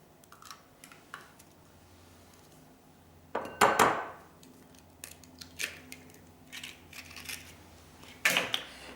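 Two eggs cracked against a mixing bowl and dropped into pancake flour, a few sharp taps and clicks scattered among quieter kitchen handling sounds, with two louder knocks standing out, close and with no talking.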